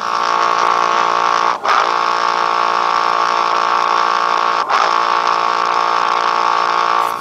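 A Haylou Iron N1 smartwatch runs its water-ejection feature, giving a loud, steady electronic buzz that holds for several seconds and breaks twice briefly. No one speaks.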